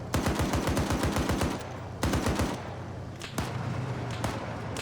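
Rapid machine gun fire from a vehicle turret in the military shooter Arma 3, with two loud sustained bursts of closely spaced shots and a few scattered single cracks and thuds at the end.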